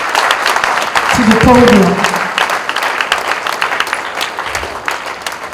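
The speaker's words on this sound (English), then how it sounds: "Let's give him a round of applause as he comes" A seated conference audience at a Nigerian surveyors' workshop breaks into a round of clapping for a speaker heading to the podium, dense and lively, under and around an announcer's amplified voice that continues over it.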